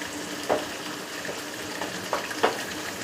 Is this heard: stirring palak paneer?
yes